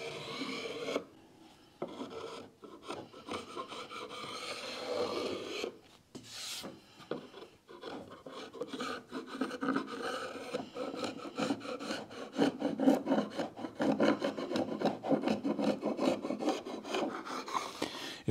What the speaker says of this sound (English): Just run a chisel over this lightly.